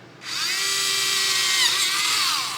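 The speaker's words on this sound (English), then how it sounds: "And we're just drilling a bunch of holes." A power drill spins up after a brief silence and whines steadily at high speed drilling pilot holes in a DeLorean scale model, close by, then its pitch dips slightly near the end.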